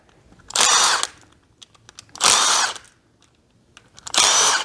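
Power tool spinning out 8mm starter cover bolts on a Yamaha Raptor ATV: three separate close, loud whirring bursts, each about a second long, with short quiet gaps between them.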